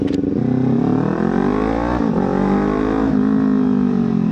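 Kawasaki Ninja 400 motorcycle accelerating hard on the NLEX highway, a loud, close, continuous engine note climbing steadily in pitch with a brief dip from a gear change.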